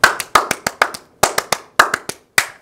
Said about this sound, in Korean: 이 9대 3대 1 9대 3대 1 9, 3, 3, 1 박수 시작.